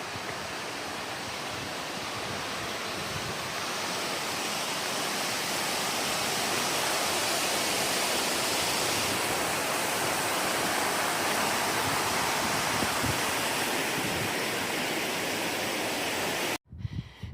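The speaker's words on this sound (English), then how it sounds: "Walk right next to the waterfall." Constant roaring rush of a nearby waterfall, dense and loud throughout, cutting off abruptly just before the end.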